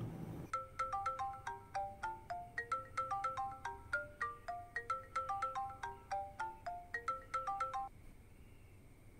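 A phone's ringtone plays a repeating melodic electronic tune of bright, evenly spaced beeps for about seven seconds, then stops. The ring is clear at moderate volume over a quiet room, with no voices.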